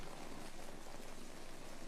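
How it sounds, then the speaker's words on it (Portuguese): Heavy rain falls steadily in Hawaii, a dense continuous hiss with no breaks, moderately loud and without voices. "chove a cântaros durante um mês"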